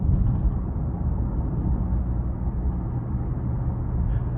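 Cabin of a 2023 Lincoln Nautilus Reserve while driving, a hushed steady low road and engine rumble with soft wind hiss and no voices.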